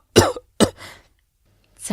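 A man coughs sharply twice, close by, followed by a short rough throat-clearing, then a faint breathy start of another cough.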